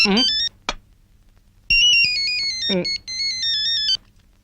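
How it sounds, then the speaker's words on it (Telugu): A phone ringtone plays in a domestic movie scene, a clear electronic melody in bursts with short gaps, loud and close, while a voice briefly speaks in between. "ఫోన్."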